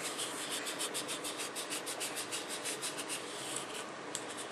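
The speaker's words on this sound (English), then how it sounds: "It was a bone folder. You could use your same popsicle stick and rub it in really well." A bone folder is rubbed firmly back and forth over the lettered area of a transfer in quick, steady, close strokes. The scraping texture is continuous and even.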